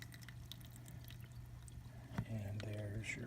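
Water drains out through a HydroBlox Terzaghi filter in a rainfall demonstration, giving a faint, steady trickle and soft drips over a low background hum, with a brief thump near the end.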